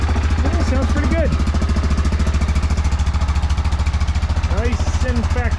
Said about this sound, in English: So let me fire it up.